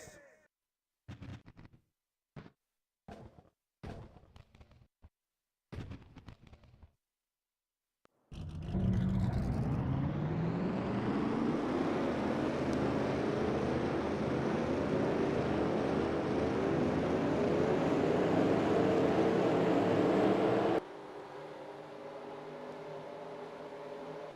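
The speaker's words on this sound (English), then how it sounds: "Drivers, start your engines!" Forty NASCAR stock cars in a racing video game fire their engines for the Lifelock 400 at Michigan. A few short, sharp bursts come first, then a loud, dense engine roar rises steadily in pitch and drops to a lower, steadier drone near the end.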